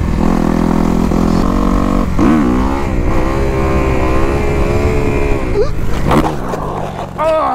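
Dirt bike engine revving hard during a wheelie attempt, a loud continuous rising and falling drone that climbs in pitch and then breaks off into clattering near the end as the bike is lost, with a voice reacting over it.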